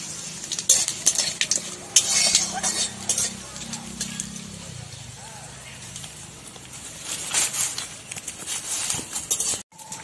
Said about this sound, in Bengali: এরপর দিয়ে দিচ্ছি তেজপাতা, 1টা শুকনো লঙ্কা আর 5 ফোড়ন। এগুলো একটু লাল করে ভেজে নেব।